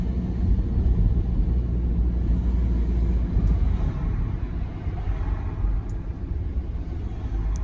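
A car drives through the streets of Guernsey toward St Peter Port, giving a steady, loud road rumble and engine drone from inside the vehicle throughout, with no talking.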